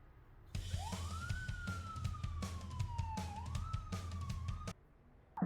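A police siren plays from a jukebox in a video game, a single rising-then-slowly-falling wail that repeats once, muffled and moderately loud over a low hum, before cutting off.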